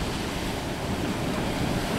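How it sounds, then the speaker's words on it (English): Lagoon water washes against rock in a continuous, close surging wash with some wind buffeting the microphone, with no voices over it. "That's the water hitting the rock."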